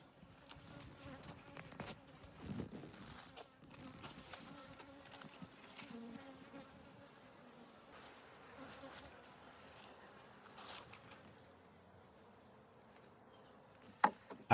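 A large honey bee colony buzzing inside an abandoned duck house, a faint, continuous drone of many bees with scattered knocks and clicks of work nearby.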